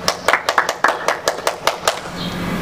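Children in a church class clap their hands together about a dozen times in a quick, slightly uneven rhythm, sharp and close, the claps ending just before a faint voice.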